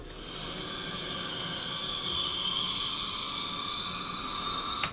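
Baby kitten sounds processed into a bat effect for Alan Wake become a steady, airy, hissing drone with no distinct meows, holding at an even, fairly loud level for nearly five seconds before cutting off.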